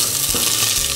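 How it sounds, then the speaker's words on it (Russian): Carrot and onion fry in vegetable oil in a pan, a close, dense, continuous sizzle with a brief stir partway through, no voices. "Сначала надо немного поджарить на растительном масле"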